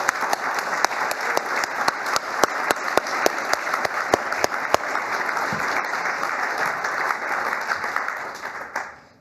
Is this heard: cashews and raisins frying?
no